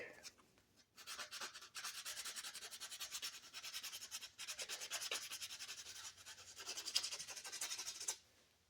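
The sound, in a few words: hand sanding wood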